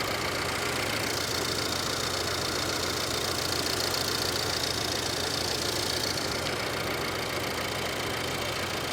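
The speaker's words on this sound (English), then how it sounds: "Engine sounds good." A Ford car's 3.5-liter engine idles steadily at a salvage auction lot, a constant close mechanical hum with a faint ticking texture and no talk over it.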